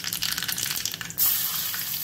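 Cumin, mustard seeds and asafoetida dropped into hot oil for a tadka, a patter of crackles giving way to a sudden loud, sustained sizzle close up.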